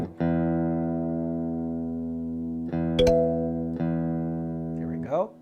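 An electric guitar with a Floyd Rose bridge has its top string tuned, ringing as a sustained, clear note that is plucked again a few times, with a brief bend in pitch near the end.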